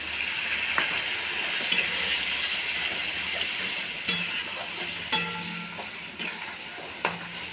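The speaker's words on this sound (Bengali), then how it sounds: "এবার একটু সামান্য একটু জল দেব মশলাটার মধ্যে" Water splashed into spice paste (masala) frying in a pan for a duck egg curry, giving a steady close sizzle with a few sharp spatula clinks against the pan.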